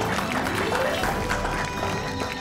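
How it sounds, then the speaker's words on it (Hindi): A studio audience claps for Payal on a Hindi television talk show, producing a dense, continuous wash of applause that stays even throughout. "तालियां तालियां पायल जी के लिए"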